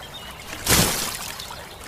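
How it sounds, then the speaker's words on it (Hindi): A person shoved off a bridge lands in a river in a cartoon village story, making a single sudden splash that bursts loudly and then fades into a brief wash of water. "श्याम हरिया को नदी में धक्का दे देता है"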